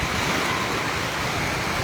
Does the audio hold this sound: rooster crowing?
no